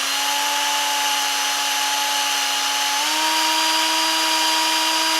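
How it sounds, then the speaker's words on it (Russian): A cordless drill-driver drilling into metal, a steady loud whine that holds throughout and steps slightly higher in pitch partway through. "сверлю шуруповертом"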